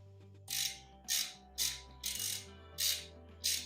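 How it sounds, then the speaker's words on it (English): A socket wrench ratchets while tightening a bolt on a wobbly toilet, close and clear: six short bursts of clicking at a steady, evenly spaced rhythm, each lasting under half a second, with no voices. "just snug it up with your socket or your pliers or crescent wrench"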